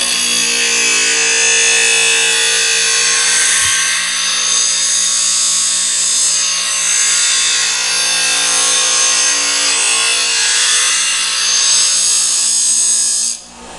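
A kunai blade is ground on a power grinder, giving a loud, continuous high-pitched whine and rasp that holds steady for the whole stretch before cutting off near the end.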